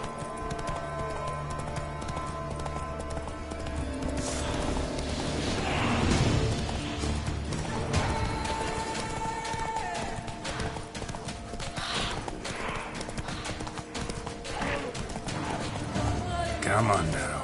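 Geralt's horse Roach gallops in The Witcher 3, hooves clip-clopping in a quick steady rhythm throughout, with occasional whinnies and a player's voice talking over the hoofbeats.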